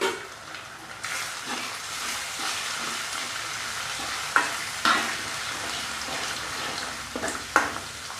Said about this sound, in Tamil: ரெண்டு முட்டை இதில் உடச்சி ஊற்றி கிண்டிக்கிடுவோம்